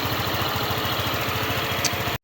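A Euro Samurai 155 motorcycle engine idles close by after a valve clearance adjustment meant to cure a ticking noise. It makes an even, rhythmic low putter at moderate loudness and cuts off abruptly at the end, with no talking.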